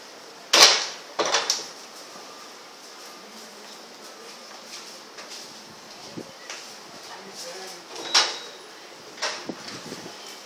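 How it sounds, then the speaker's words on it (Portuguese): A few sharp knocks and bangs at irregular intervals as a door slams in strong wind, with quieter rattles in between against a faint outdoor background. "porta batendo."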